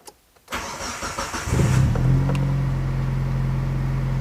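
A Mitsubishi Libero with a charging fault and a weak battery cranks briefly after a short pause, catches, and settles into a steady, close idle with a low engine drone.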